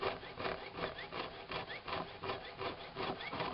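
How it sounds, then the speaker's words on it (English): A small jeweler's saw blade cuts steadily through coiled wire to make jump rings, a continuous fast rasping stroke rhythm, close but soft and even throughout. "as she saws through these, individual jump rings fall out"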